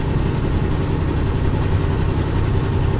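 A truck engine grinding steadily while driving up a mountain road during a downshift from ninth to eighth gear, a loud, continuous low rumble with an even vibrating drone and no talk.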